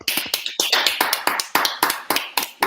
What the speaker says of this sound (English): I don't know what is happening to this round of applause.